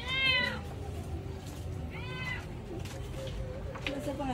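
Several house cats meow in short, high calls spaced a couple of seconds apart, heard close over a low room murmur while people talk.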